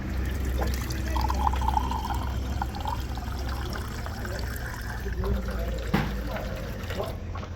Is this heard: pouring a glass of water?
yes